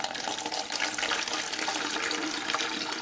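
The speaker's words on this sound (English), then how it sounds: "Now we're going to go ahead and strain our Jamaica, our hibiscus." Hibiscus agua fresca being strained and poured, a continuous splashing stream of liquid running for a few seconds.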